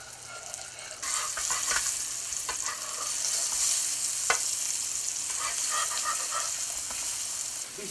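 Plantain slices fry in a pan with a steady, close sizzle that starts abruptly, joined by occasional light scrapes and pops as they brown, with no voices.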